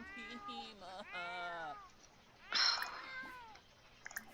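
A cat meows in The Sims 4 video game, several drawn-out tonal meows followed by a harsher, louder yowl, with game ambience beneath.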